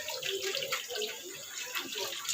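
Tap water runs steadily while dishes are washed, a close, continuous splashing flow with no break.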